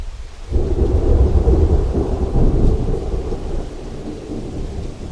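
Thunder rolls and rumbles through a game storm in Arkham Horror, a deep sustained roar over steady rain that swells loudly after a brief quiet start, then eases slightly while staying heavy to the end.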